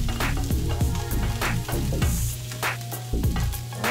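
Green peppers and onions fry loudly in a hot pan, a constant crackling sizzle broken by repeated scraping and clanking strokes of a spatula, with no talking.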